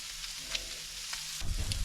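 Beef and pork belly skewers sizzle on a hot grill beside green onions, a close, steady hiss with small crackles and a low thump near the end.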